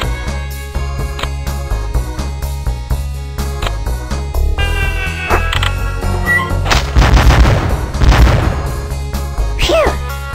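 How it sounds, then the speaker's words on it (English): Cannons in The Incredible Machine 2 go off in a burst of booming game shots over looping background music, the blasts cluttering together loudly near the end. "Fire all of the cannons."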